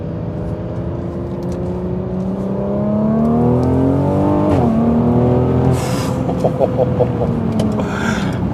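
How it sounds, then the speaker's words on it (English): A 2018 Mercedes-AMG GLC43 engine drones nearby, then its pitch dips and jumps as it revs through a downshift, followed by a few sharp pops and crackles. "Let's give it a little bit of a downshift."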